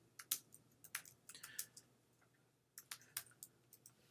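Someone types a Linux install command on a computer keyboard, producing sparse, irregular clusters of crisp key clicks with pauses between bursts, close and fairly quiet.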